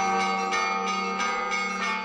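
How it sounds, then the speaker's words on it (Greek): Church bells at the Church of the Dormition in Karyes, the capital of Mount Athos, ring joyfully in a steady, resonant peal, with repeated strikes that sustain and overlap across the whole stretch. "Οι καμπάνες στην εκκλησία της Κοιμήσεως στις καριές στην πρωτεύουσα του Αγίου Όρους χτυπούν χαρμόσυνα"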